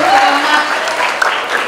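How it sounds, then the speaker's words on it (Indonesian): Applause from an audience at a university Christmas celebration after a Mandarin course performance, a short, dense, steady burst of clapping heard up close. "beri tepuk tangan sekali lagi"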